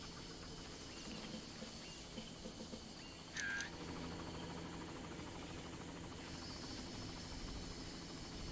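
A helicopter in the video game Far Cry 1 drones steadily and faintly, as if at a distance, with one short chirp partway through and no talking.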